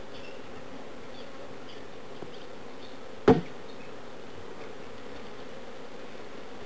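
Honey bees buzz steadily around an open hive during a mid-summer inspection, a faint, even hum broken once by a sharp knock from a hive tool or frame.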